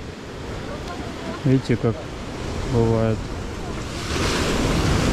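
Rough, roaring storm surf washes up to the seafront promenade at Sudak, Crimea, under a man's brief remark, the rushing water swelling louder toward the end.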